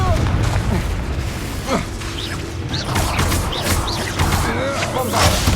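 Spell blasts from Confringo and Bombarda in the Hogwarts Legacy video game, a run of booming bursts and crashing impacts in a busy combat mix, with speech heard throughout.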